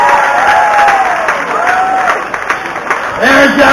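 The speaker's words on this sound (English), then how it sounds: "let's give them a cheer and get them going" A crowd at a 2017 chilli eating competition claps and cheers steadily for the contestants, with a loud announcer's voice talking over the applause.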